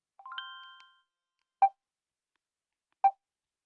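Default notification tones of the Messenger app play one after another: a short rising chime figure with a lingering ring, then two separate brief pops or plinks about a second and a half apart, clear against silence.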